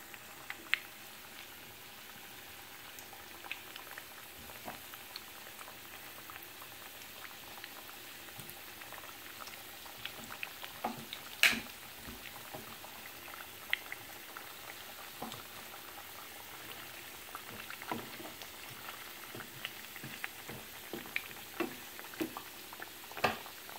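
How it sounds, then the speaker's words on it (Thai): Taro pieces fry in a small pan of oil over fairly high heat, giving a quiet, continuous bubbling sizzle scattered with irregular pops and crackles throughout. "ใช้เวลาทอดนิดหน่อย"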